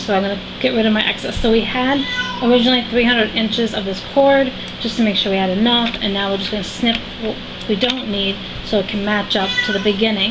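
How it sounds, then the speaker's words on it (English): A pet cat meows repeatedly indoors, a string of short tonal cries under a person's steady talking, and the two overlap throughout. "And I apologize for my cat meowing."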